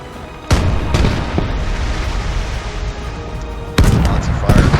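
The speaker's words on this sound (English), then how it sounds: "Lots of fire going out from the Stug." Heavy cannon blasts from a StuG assault gun in the World War II game Gates of Hell, several loud booming shots at irregular intervals over continuous rumbling battle noise.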